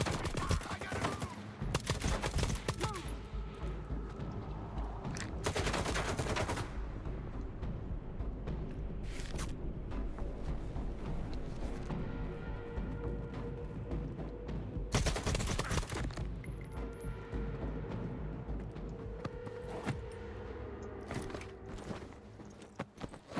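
Gunfire in the shooter S.T.A.L.K.E.R. 2: Heart of Chornobyl, loud separate bursts and single cracks spread over a long stretch, with footsteps and ambient rumble in between.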